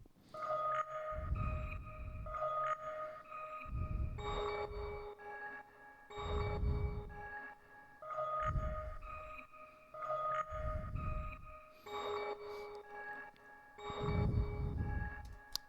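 Synth bell notes from the Omnisphere software instrument ring out in a slow repeating pattern, bright chiming tones layered over soft low pulses, several even phrases in succession with no talking.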